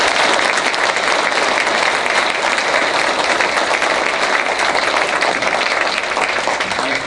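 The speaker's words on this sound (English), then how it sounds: "So if we could just give her a round of applause." An audience at a county board meeting breaks into sustained applause, a dense, loud wash of many hands clapping continuously without pause.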